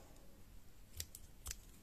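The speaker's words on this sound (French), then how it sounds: "Je vais venir couper. Il est là, le fameux ciseau qui coupe pas." Scissors snip crochet yarn, two quick, faint cuts about half a second apart against a soft background hiss.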